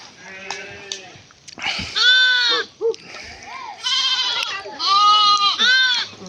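Several loud, wavering sheep bleats sound close by, coming in bursts with brief gaps, over a low background of rustling.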